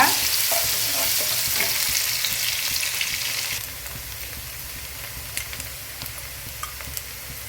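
Two medium onions, finely chopped, fry in a pan for tomato rice, a continuous close crackling sizzle with light stirring taps that eases slightly partway through.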